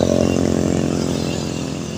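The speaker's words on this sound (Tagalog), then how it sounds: "Maraming mga motor na dumadaan ngayon," A motorcycle passing close by on a village road, its engine a loud buzzing drone with a harmonic whine that fades slowly as it moves away.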